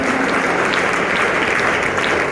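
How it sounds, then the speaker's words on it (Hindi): Loud, steady applause from an audience at a Safe Shop business plan presentation, dense clapping filling the whole moment without pause. "एक बार जोरदार तालियां चाहिए, जोरदार जोरदार तालियां"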